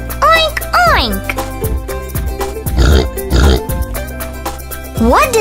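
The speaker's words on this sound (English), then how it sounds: "The pig says, oink oink." A pig's oinking in a farm-animal nursery rhyme setting, grunting sounds set among cheerful music, with a child-like voice and jingly tones running through the loud mix.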